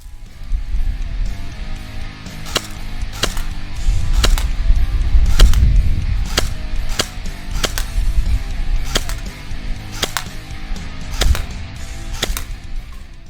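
A homemade airsoft assault rifle firing BBs in semi-automatic, a series of about a dozen sharp, loud snapping shots at irregular intervals over a low background rumble, with no talking.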